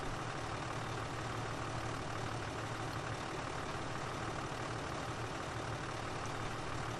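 A New Holland tractor engine idles in Farming Simulator 2013, a steady, dense low rumble holding evenly throughout with no talk over it.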